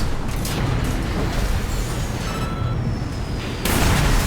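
An Armored Core 6 mech fires its weapons while flying, giving dense, loud, continuous booms and mechanical bursts over a roaring thruster wash.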